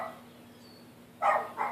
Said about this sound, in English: You can hear Busby barking outside my open window.